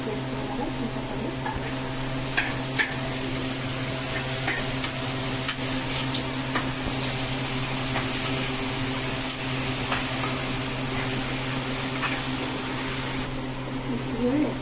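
Okra, tomato and onion fry in a pan under a soft, continuous sizzle, with occasional scraping ticks from stirring over a low background hum.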